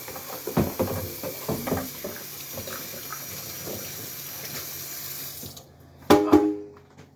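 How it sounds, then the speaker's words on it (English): A kitchen sink tap runs steadily as hands are washed under it, a close, constant rush of water for several seconds before it is shut off, followed by a brief clatter. "Let me get over here again and wash my hands."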